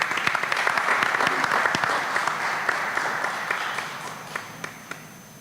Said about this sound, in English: Give her a round of applause in her absence